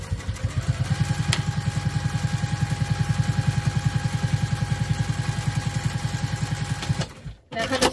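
A sewing machine top stitches along the folded edge of a crossbody bag, a close, steady rapid needle chatter running for about seven seconds before stopping, with a clunk at the end.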